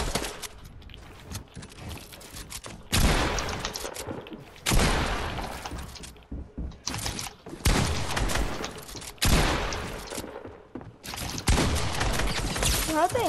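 Shotgun fire in a Fortnite match: several loud, separate blasts with sharp, shattering edges, fired in uneven bursts with quieter gaps and scattered game noise between them, while a voice talks.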